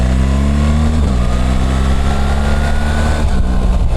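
A BMW adventure motorcycle pulls away hard from a standstill, its engine loud and close, a steady throaty roar that rises in pitch as the throttle is twisted, then drops briefly at a gear change before climbing again.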